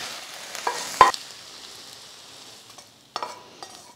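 Eggs fry in a pan over a low flame, giving a soft, steady sizzle. A few sharp utensil clinks and scrapes against the pan stand out near the start and later on.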